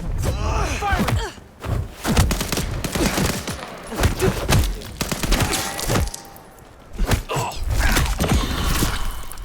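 Rapid bursts of gunfire from Vampire: The Masquerade - Bloodlines 2 hammer away almost nonstop, with dense volleys broken by a few brief pauses and loud, close shots throughout.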